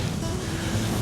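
Strong wind blows in the Namibian desert near the Dune 45 sand dune, buffeting the microphone with a steady, loud low roar for a moment.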